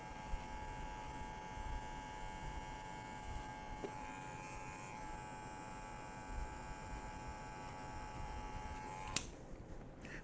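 A steady electric hair clipper buzzes continuously while cutting a fade haircut, its close, even drone holding for the full span, ending with a brief click near the end.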